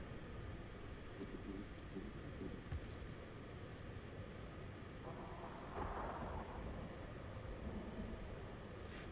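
A thunderstorm with heavy rain in the survival game Icarus: constant rain hiss under low rolling thunder rumbles that swell in the middle, with no voices.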